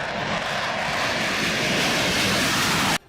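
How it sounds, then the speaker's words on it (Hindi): Fighter jets roar overhead in a loud, dense, continuous engine rumble that holds steady for about three seconds before cutting off abruptly, with no voices. "इसके अलावा लड़ाकू विमानों को भी उड़ाया गया।"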